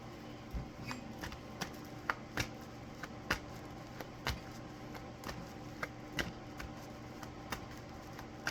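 A deck of cards is shuffled by hand, close and quiet, with a string of short, separate snaps and flicks at an irregular pace over a faint steady background hum.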